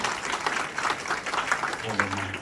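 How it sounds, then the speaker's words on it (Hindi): Guests at a Christian wedding break into loud, sustained applause, a continuous crowd of clapping hands filling the room, with a voice briefly audible beneath it near the end. "जोरदार ताली दे सकते हैं"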